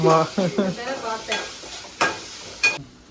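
Tomatoes with salt sauté in a pan with a light sizzle while a spoon stirs them, leaving three sharp clanks against the pan. A voice speaks briefly at the start.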